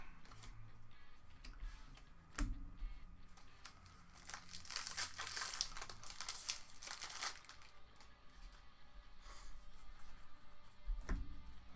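Foil booster pack wrappers of Amonkhet Magic: The Gathering cards crinkle and tear open close up, with a steady rustling texture and occasional sharp ticks as packs are handled.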